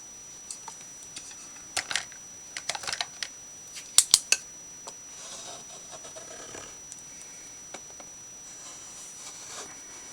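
Scissors cut a large circle out of paper or card for a layered Christmas embellishment, giving a scattered run of crisp snips that cluster in the middle and fade to quiet rustling near the end.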